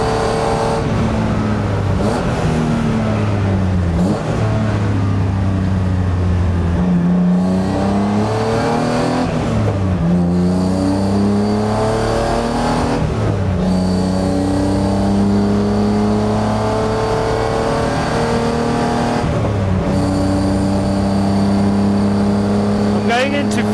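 BMW E36 track car engine revving hard at full throttle on a circuit, climbing through repeated rising pulls with brief dips at each gear change, loud and close from inside the cabin.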